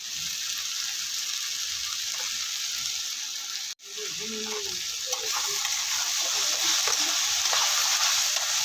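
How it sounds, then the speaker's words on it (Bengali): Four kinds of mixed leafy greens with garlic frying in a pan, a steady hissing sizzle with occasional stirring scrapes and a brief dropout midway, close and even. "তো চলো শাকটা ভাজি করে আবার কথা বলছি।"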